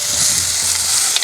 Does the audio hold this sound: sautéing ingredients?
yes